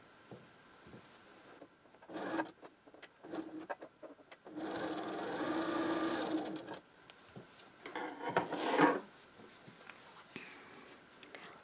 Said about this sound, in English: sew a 1/4 inch on either side of these lines